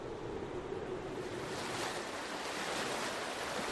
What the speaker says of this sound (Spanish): durante unos días solo se oye el río